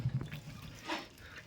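Water from a pot of cooked food is tipped off and drained in a village kitchen, giving a short, soft trickling pour close by.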